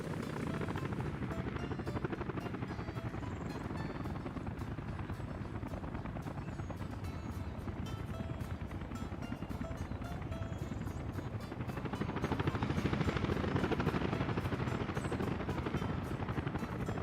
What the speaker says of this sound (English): And then the choppers for everything they didn't get assigned to.